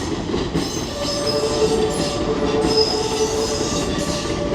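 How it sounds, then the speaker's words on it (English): A train rolls past Ueno Station in Tokyo, loud and close, with steady rumbling wheels, a faint rhythmic clatter and high, thin squeals from the rails throughout. "they're trying to grab a quick video of this train that's going to come by"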